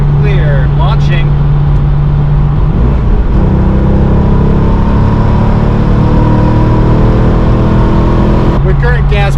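Corvette C5 Z06 launching hard in the rain: a loud engine roar climbing through the revs, close and dominant, with a brief voice near the start and end.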